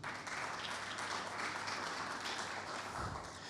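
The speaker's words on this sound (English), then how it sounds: "give a warm welcome and applause again to these serial entrepreneurs" Audience applause at the MedTech Malta 2024 conference welcoming a panel of serial entrepreneurs: steady, fairly quiet clapping from a crowd that holds evenly for a few seconds without any talking.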